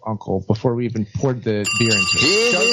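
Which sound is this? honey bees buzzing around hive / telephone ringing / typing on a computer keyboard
telephone ringing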